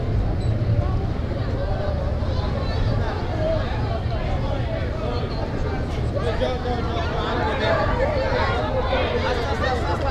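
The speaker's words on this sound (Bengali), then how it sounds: "এখানে আসা মাত্রই মানুষের হাউ হাউ কাউ কাউ শুরু" Dense crowd clamor fills Jan Ali Hat railway station on the Chattogram–Cox's Bazar line, a continuous babble of many overlapping voices and commotion, loud and close throughout.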